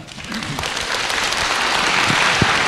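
A university audience bursts into applause, a thick, continuous roar of many hands clapping that builds slightly in strength over a few seconds, with faint crowd murmur underneath.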